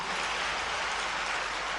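Dense, continuous applause from an audience welcoming the Chief Minister at a government event, a steady wash of many hands clapping at once, with no voices heard.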